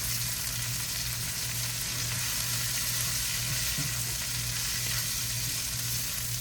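Shredded cabbage fries in oil over peppers and onions in a pan, a steady, even sizzle with a low hum underneath and no talking.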